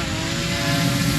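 Small Ruko U11 Mini camera drone in flight, its propellers giving a steady, close, moderately loud whirring buzz that holds evenly throughout with no talking.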